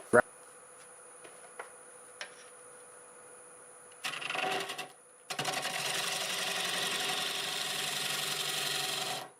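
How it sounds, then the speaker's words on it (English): A wood lathe turning at about 600 RPM while a half-inch bowl gouge hollows wooden staves: a few light taps, then a short scraping burst and a sustained, steady cutting rasp running to the end. "I'm going to use my 1/2 bowl gouge, and I think we're doing about 600 RPM"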